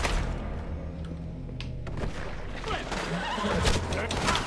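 A horse whinnies amid game-like thuds and a steady low hum in the video game Red Dead Redemption 2, with a person talking over the noise.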